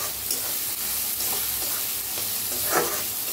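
Onion and long-sliced green chillies frying in a hot pan, stirred with a steady broadband sizzle and a few scraping strokes of the spatula, close and continuous with no talking.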